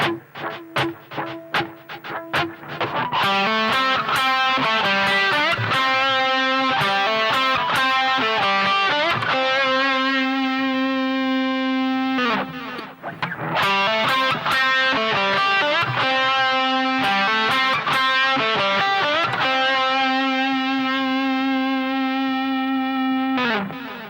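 Distorted electric guitar plays a major pentatonic lick, a run of quick picked notes building into sustained bends, repeated twice with a brief pause between.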